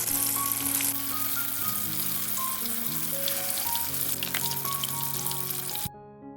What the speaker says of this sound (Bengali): বড়াগুলো একটা একটা করে গরম তেলের মধ্যে ছেড়ে দিচ্ছি